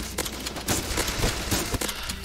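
Rapid gunfire in the first-person shooter game Bullet Force: a loud, close series of sharp shots in quick bursts, with a few separate cracks spaced across about two seconds.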